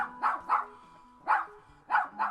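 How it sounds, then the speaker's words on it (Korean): A small dog barks in short, sharp yaps, five in all, spread in pairs and singles with brief gaps, close and clear with no talking over them. "정원사의 장난꾸러기 개가 우르르 컹컹 짖으며 쫓아왔고"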